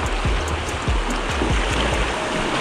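A drinkable waterfall stream in the Hornád river gorge in autumn, heard as a loud, continuous rush of falling water with no talking, the low end marked by rhythmic thumps.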